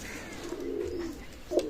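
Pakistani Teddy pigeons in a loft give soft, low cooing calls, a drawn-out murmur followed by a brief sharper call near the end, with faint background noise.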